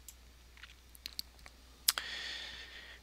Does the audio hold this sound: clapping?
no